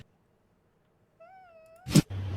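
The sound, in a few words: cat meowing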